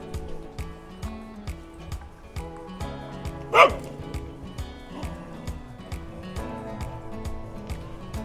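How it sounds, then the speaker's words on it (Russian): An angry small dog barks repeatedly along a park alley in Simeiz on Crimea's southern coast, sharp mid-distance barks with one louder yelp, over a steady tonal background. "Какая злая собачка гавкает."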